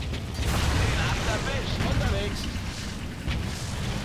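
Dense, rumbling artillery fire and booms in the World War II strategy game Blitzkrieg 3 during the Battle of Arras, a continuous heavy roar with mechanical clatter and a voice talking over it.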